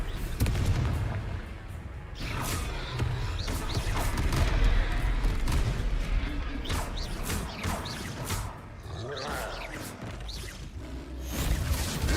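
Confringo fire spell blasts in the Hogwarts Legacy video game during a troll fight, a dense run of booming, crackling explosive hits and crashes over continuous battle noise.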